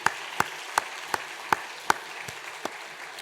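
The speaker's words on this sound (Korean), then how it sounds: "우리 박수로 한번 환영하시겠습니다" Steady, evenly spaced claps, about eight sharp hits in a slow rhythm, ring out in a church congregation welcoming a returning member during a Sunday service. No one speaks over them.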